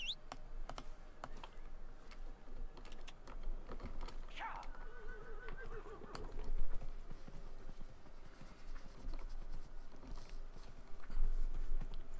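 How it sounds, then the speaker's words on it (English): Horse hooves clip-clopping in Dragon Age Inquisition, a steady run of light hoofbeats in the game, mixed with keyboard typing clatter and some faint background noise. "Horse."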